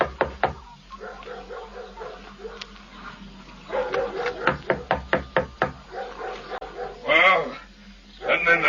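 Dogs in a radio drama barking in a rapid burst of sharp yaps, with knocking and a few scattered barks beforehand and a whining, whimpering cry near the end, all fairly close.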